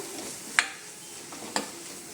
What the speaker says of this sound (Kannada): 1/2 ಟೇಬಲ್ ಸ್ಪೂನ್ ಗರಂ ಮಸಾಲ ಹಾಕಿ ಮಿಕ್ಸ್ ಮಾಡ್ಕೋಬೇಕು